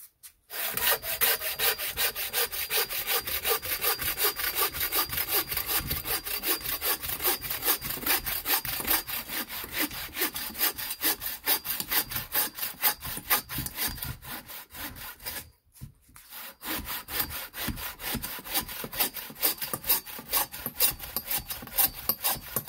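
A hand saw cuts a piece of resinous fatwood in the forest with fast, even back-and-forth rasping strokes, loud and close, pausing briefly once before sawing resumes.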